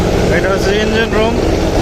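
A launch ferry's engine running in its engine room, a loud, close, steady mechanical drone with throbbing rumble, and a voice speaking over it.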